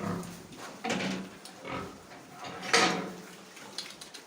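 A pig grunts and snuffles in short bursts at close range, with some rustling in between.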